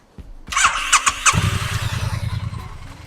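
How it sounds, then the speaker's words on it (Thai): A starter whirs in a few quick cranks before a 2020 Triumph Bonneville T100 motorcycle engine catches and settles into a close, steady, pulsing idle. "เดี๋ยวฟังเสียงเครื่องยนต์กันนิดนึงนะครับ"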